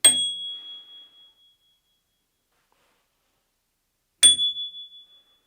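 A cheap bicycle bell of the kind sold with new bikes is struck twice, a few seconds apart, each strike a bright, clear ding that rings out and slowly fades into silence.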